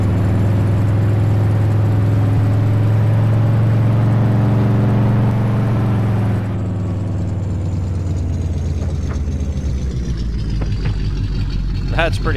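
A vehicle engine in the video game Farm Sim drones loudly and steadily, its pitch stepping and dropping as gears shift, with a voice talking over it.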